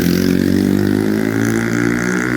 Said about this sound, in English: that motorbike is making a hell of a noise